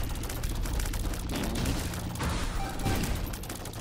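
Dense, continuous barrage of rapid flechette shots in The Binding of Isaac: Repentance, a steady loud rattle of game gunfire with a few louder bursts and no pause throughout.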